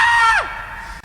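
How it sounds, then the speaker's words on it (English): A flood warning alert sounds as a brief, loud electronic tone that swoops sharply downward in pitch, under a second long, followed by a faint background hum. "And a flood warning sounds like this."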